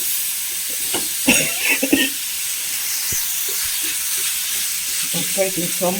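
Tomatoes fry and are stirred into a potato brinjal masala, a steady bright sizzle with occasional scraping stirs, while a person talks intermittently over the cooking.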